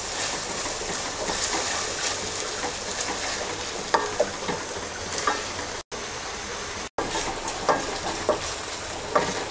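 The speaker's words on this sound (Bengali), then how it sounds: "এবার শুটকিটা কিছুক্ষণ কষিয়ে নেব।" Chapa shutki, a dried fish, is sautéed in a pan with a dense, steady sizzle and hiss and occasional scraping stirs, broken by two brief cuts to silence.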